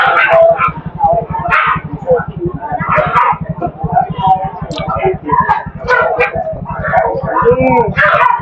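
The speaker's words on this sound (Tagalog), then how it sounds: "Nagselos yung isang aso." Several dogs bark and yip, one of them jealous, mixed with whimpers, with people talking over the barking throughout.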